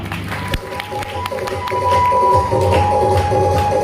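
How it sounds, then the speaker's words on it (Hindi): Loud applause from a seminar crowd in Sirathu, Kaushambi, with sharp claps building into a dense, sustained roar of hands over background voices. "एक बार डायमंड के लिए जोरदार ताली जाए"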